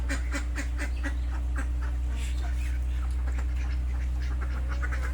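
Domestic ducks and geese, kept together with chickens, call at once in a continuous chorus of quacks and honks, steady and fairly close, with overlapping bursts throughout.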